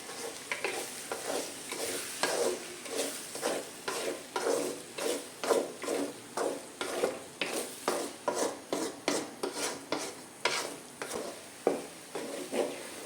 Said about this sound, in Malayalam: നമുക്കിതൊന്ന് എല്ലാമായിട്ട് ഒന്ന് മിക്സ് ചെയ്ത് കൊടുക്കാം